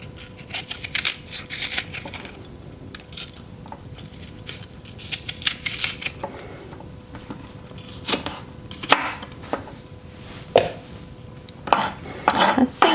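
Knife coring and cutting an apple with the skin left on, heard as a series of close, sharp cuts and clunks on a board, irregular and spaced out, with quieter handling noise between them.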